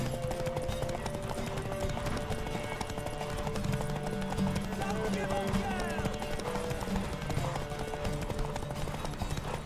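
Rhythmic clip-clop of galloping hooves from a horse in The Witcher 3 runs steadily under game music and voices, with a brief whinny-like cry partway through.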